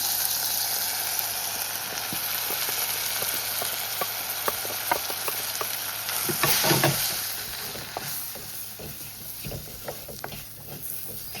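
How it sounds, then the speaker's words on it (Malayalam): Coriander, chili, turmeric and fennel powders roasting in a pan, giving a continuous bright sizzle with scattered crackles and a louder stirring burst midway, no speech. "നമ്മൾ പൊടികളൊക്കെ നല്ലൊന്ന് മൂപ്പിച്ചെടുത്തിട്ടുണ്ട്"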